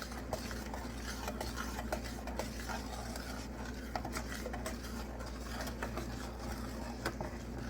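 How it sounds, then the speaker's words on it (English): A spoon stirs soda cracker fudge mixture in a pot on the stove, with a continuous soft scraping and frequent light clicks against the pot, moderately quiet and with no talk. "just so long as I'm stirring it"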